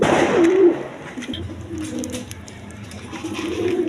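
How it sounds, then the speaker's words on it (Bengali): Army pigeons cooing on a farm: a rolling coo stands out near, then softer cooing and bird calls continue beneath steady background noise. "এখানে এক পেয়ার আপনার আর্মি কবুতর আছে দুইটা বাচ্চা সহ নিতে পারবেন"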